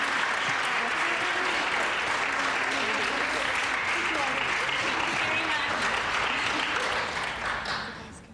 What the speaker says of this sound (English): Let's give them a real round of applause.